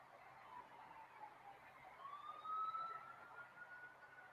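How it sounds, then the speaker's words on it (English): Police sirens wail faintly in the distance outside, a thin rising and sliding tone over quiet background noise. "I hear screeching tires and police sirens outside."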